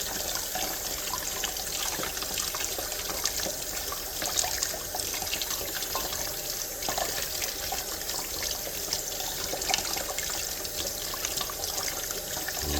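Tap water runs steadily as a plastic item is rinsed under it, a continuous faint hiss and splash with small irregular trickles and no talking.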